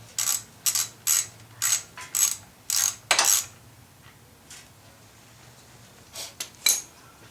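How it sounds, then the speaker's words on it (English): A ratchet wrench loosening the oil drain bolt on a 2008 Suzuki GSX-R 600 motorcycle, a close series of sharp metallic clicking bursts in quick rhythm, then a pause before a few more clicks. "now we need to release this bolt right here to get the oil out"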